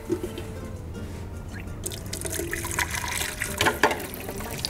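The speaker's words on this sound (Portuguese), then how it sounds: "Encher de água e vamos cortar as batatas." Running water splashes and trickles into a cooking pot, the pour growing busier and brighter toward the end, close by with no talking.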